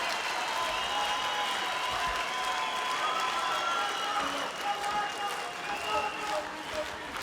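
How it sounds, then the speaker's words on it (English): Arena crowd at an MMA fight roars continuously throughout, a dense steady wash of cheering and shouting with a few whistles and some commentary mixed in. "Listen to this crowd."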